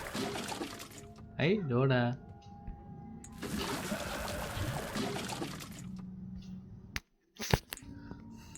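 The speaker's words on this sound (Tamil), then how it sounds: "என்ன இவன் மேலே தண்ணி ஊற்றணுமா?" Water is poured onto a plant in a horror video game, a steady splashing hiss lasting a couple of seconds between stretches of someone talking, with a few short clicks near the end.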